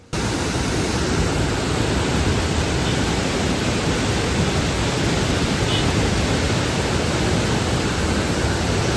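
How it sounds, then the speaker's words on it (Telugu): Water surges fast through the open gates of the Jurala dam, a steady, loud, unbroken roar of rushing water that fills the whole stretch without pause or voices. "చూడండి వాటర్ ఎంత వేగంగా వెళ్తున్నాయో"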